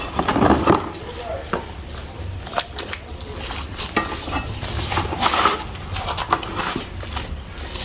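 Wet scraping and stirring of cement grout being mixed with water while installing balustrade rails, a continuous gritty churning with irregular clinks and scrapes throughout.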